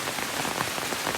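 Steady rain pours down at Litalip, a dense, even hiss of drops striking surfaces close by, continuous and fairly loud with no voices.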